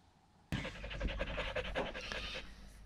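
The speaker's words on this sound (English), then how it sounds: "He's panting," A dog frightened by thunderstorms pants hard and fast, the rapid breathy bursts starting suddenly and continuing close to the microphone.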